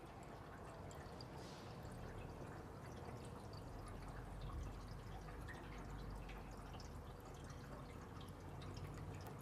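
Water is poured slowly from a watering can into a field autoclave unit, a soft continuous trickle and splash with faint drips, steady and quiet throughout.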